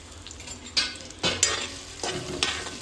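Food is sautéed in hot oil in a pan, with several short stirring scrapes and clinks over a gentle, constant sizzle.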